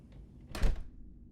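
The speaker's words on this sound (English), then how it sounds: "Close the door, won't you?" A door swung shut indoors in drafty halls, one soft, low thud with a brief rush of air, close and otherwise quiet.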